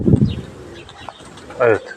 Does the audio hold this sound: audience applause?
no